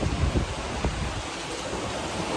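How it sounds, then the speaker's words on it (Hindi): Heavy monsoon rain falling in Mumbai, a dense continuous hiss of steady downpour filling the whole clip, with no voices over it. "और बहुत बारिश पड़ रही है मुंबई में।"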